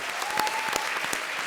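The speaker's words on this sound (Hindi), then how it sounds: "तो एक बार डेविड धवन के लिए जोरदार तालियां।" Audience at a comedy-show taping applauds loudly and steadily, with dense clapping filling the short stretch.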